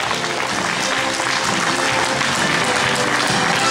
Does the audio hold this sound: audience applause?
yes